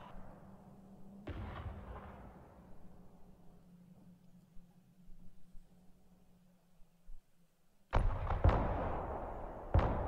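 Paladin howitzers firing in the video game Broken Arrow: one heavy boom early, then a close cluster of loud blasts near the end over a low, steady hum, with no talk.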